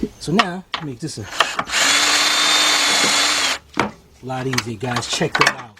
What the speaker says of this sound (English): Let's hook up our 3/8 drive onto our cordless gun, cordless drill.